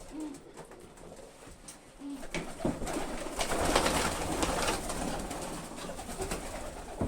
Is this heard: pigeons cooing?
yes